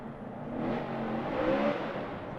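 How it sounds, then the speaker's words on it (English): A Formula Drift car revs steadily as its Nitto tires warm up before a run, a sustained engine roar with rising and falling pitch at moderate distance and no talk over it. "Vaughn warming up his Nitto tires"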